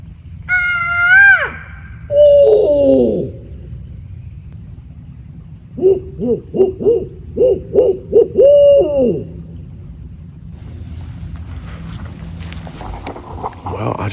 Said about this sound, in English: Well, I just got the owls started up.